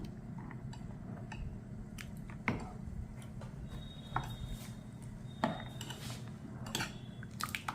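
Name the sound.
mixing ingredients in a bowl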